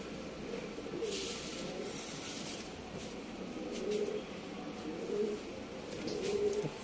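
Gerobaz pigeons coo softly in a few short bursts over steady background noise, with no voices.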